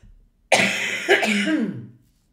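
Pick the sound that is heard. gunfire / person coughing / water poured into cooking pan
person coughing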